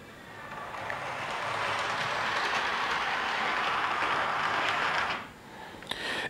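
A model train locomotive runs along its track, a steady whirring rumble with faint rail clatter that drops away abruptly near the end as it moves off.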